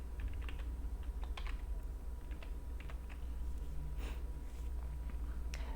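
Fingers tap on a computer keyboard in quiet, irregular bursts of clicks, faint and close, over a low steady hum from the room or equipment.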